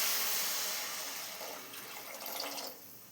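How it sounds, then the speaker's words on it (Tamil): Water is poured into a pan of okra cooking with salt and pepper. A short, rushing pour runs for about three seconds and fades toward the end. "நீங்கள் காய் வேகிறதுக்கு தண்ணி ஊற்றிக்கலாங்க."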